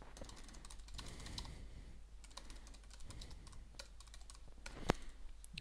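Rapid, uneven clatter of a computer keyboard as a code comment is typed, close and alone, with one sharper click near the end.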